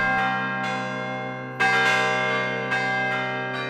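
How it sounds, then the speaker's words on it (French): Carillon bells ring in the Lens bell tower, a set of tuned church bells sounding loud and sustained, with fresh strikes renewing the ringing chord about every second. "Le clocher de Lens possède deux types de carillons."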